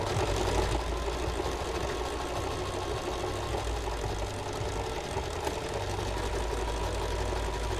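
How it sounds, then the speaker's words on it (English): A sewing machine stitches fabric and backstitches to lock a knot, its motor whirring in a steady, close mechanical hum that runs without a break and without any talking. "And then backing it up to sew a knot and back forward."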